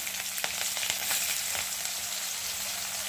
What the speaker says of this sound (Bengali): দিয়ে একটু ভালো করে পেঁয়াজটা একটু ভেজে নেব